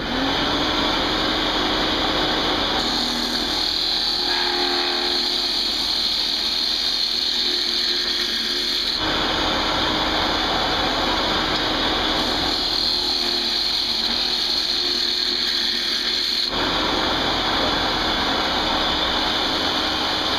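A wood lathe turns a bamboo Native American style flute, giving a steady close whir and rumble that runs the whole time, with brief shifts in tone as the cutting changes.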